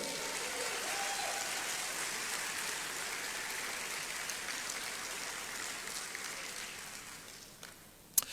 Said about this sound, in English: Please do a big round of applause for her.